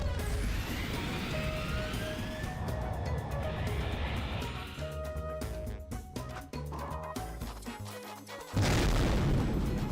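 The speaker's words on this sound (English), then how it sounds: "Oh, that was an explosion." An explosion in the video game Sonic Adventure 2, a sudden loud boom bursting in near the end over a busy mix of game sounds and effects.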